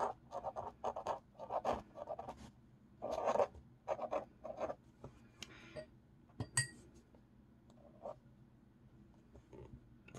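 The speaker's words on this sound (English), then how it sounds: "So yeah, that's just writing like my normal speed." A pen writes on thin 100 GSM paper at normal speed, giving a close series of short scratchy strokes in bursts with brief pauses and one sharp tap near the end.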